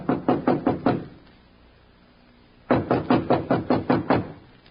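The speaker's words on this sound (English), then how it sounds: "Standing at the door, he hesitated. Then, squaring his shoulders, he knocked." Two bursts of firm knocking on a wooden door, about five raps in each, split by a pause of nearly two seconds, close and fairly loud with no voices.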